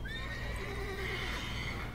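A mare whinnies and neighs in The Witcher 3: Wild Hunt, one long clear call over a steady background hum, with faint hoof clip-clops beneath.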